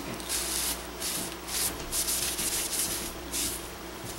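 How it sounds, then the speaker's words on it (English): A rag soaked in lacquer thinner rubs back and forth over metal gun parts during soldering preparation, a steady close swishing with rhythmic strokes and no talk. "use a little lacquer thinner first."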